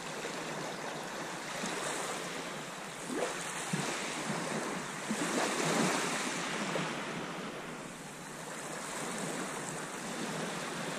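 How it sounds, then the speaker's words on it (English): Sea waves break on a sandbar along the coast between Walcott and Cart Gap on a flooding tide: a continuous wash of surf with swelling, rolling crashes, mixed with wind buffeting the microphone and no voices. "make our way back to that next sandbar up there where the waves are breaking"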